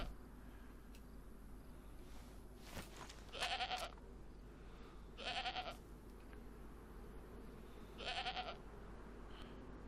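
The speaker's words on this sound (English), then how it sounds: "These are friendly goats, aren't they?" Goats in the video game DayZ bleating in three short bursts over a steady ambient outdoor background, moderately distant and fairly faint.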